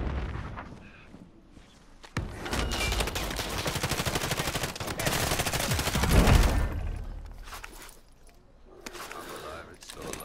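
Gunfire in an online shooter game during a warm-up match: a dense, sustained burst of rapid shots and explosions rolls on for several seconds, swelling to a loud peak before fading.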